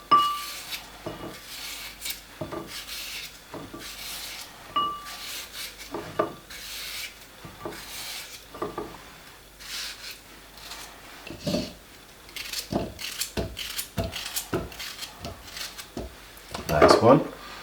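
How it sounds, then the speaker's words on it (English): Cucumber is cut up by hand over a blender, giving scattered light knife taps and rubbing scrapes against wood and glass, fairly quiet, with a person talking throughout. "cut up your cucumber into your blender"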